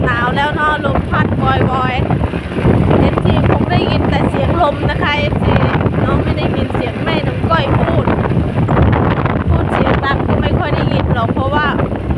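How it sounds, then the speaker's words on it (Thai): Wind buffets the microphone outdoors in a loud, steady roar that lasts throughout, with voices faintly audible beneath the rumble. "เสียงลม"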